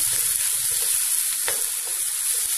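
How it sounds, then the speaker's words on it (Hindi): Three large tomatoes frying lightly with garlic, giving a loud, even hiss of sizzling oil with little movement, alone and steady throughout. "उनको मैं हल्का सा फ्राई करती हूँ।"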